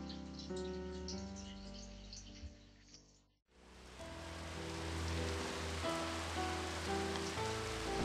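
Rain begins to fall outdoors during a thunderstorm. Soft background music fades out, then a dense, steady patter of raindrops sets in and holds at an even, moderate level.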